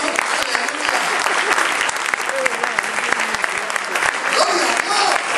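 Loud, dense applause from a church congregation at a Spanish-language worship service, steady clapping filling the whole stretch without letup.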